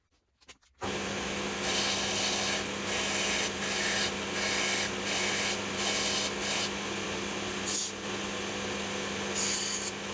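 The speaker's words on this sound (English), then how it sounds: "we'll walk this over to the sander and sand the edges" A power sander runs steadily and close for about nine seconds as it sands the edges of a mini Hayabusa model part, a continuous whirring rasp that starts abruptly after a brief quiet moment, with no talking.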